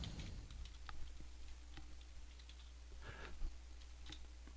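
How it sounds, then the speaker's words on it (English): Faint, steady keyboard typing with scattered soft key clicks over a constant low hum, as someone enters text while scripting in 3ds Max on a computer. "We type the word rollout."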